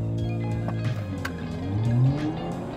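An Audi B9 with adjustable launch control pulls away hard, its engine droning steadily and rising in pitch while the tires skip with brief chirps. The sound is moderately close and carries no speech.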